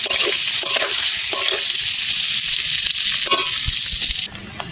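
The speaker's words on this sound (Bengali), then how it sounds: "অল্প হলুদ দিয়ে দেব, ভালো করে নেড়ে চেড়ে ভেজে নেব।" Potatoes fry with turmeric in a hot pan, a steady loud sizzle broken by repeated scrapes and stirs of the spatula, then the sizzle drops away at the end.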